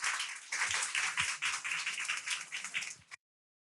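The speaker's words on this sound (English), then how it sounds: "Big applause." A conference audience applauds to welcome a speaker to the stage, dense close clapping that holds steady for about three seconds and then cuts off abruptly.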